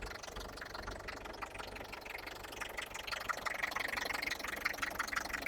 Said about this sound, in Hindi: आवाज सुनिए भाइयों, देखो कितना बढ़िया ट्रैक्टर है, बिल्कुल नया ट्रैक्टर एकदम।